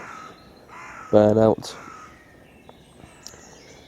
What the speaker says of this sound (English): waking up to this, the birds singing